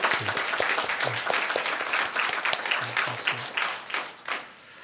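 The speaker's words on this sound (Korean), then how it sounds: "우리 박수로 환영하겠습니다" A Sunday worship congregation at Huam Baekhap Church claps to welcome a new choir accompanist, a steady, close round of applause with a few low murmurs that fades out over the last second.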